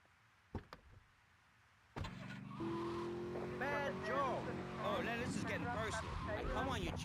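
A car engine in the video game GTA Vice City turns over with a sharp burst after a couple of faint clicks, then settles into a steady running drone beneath other game sounds and voices.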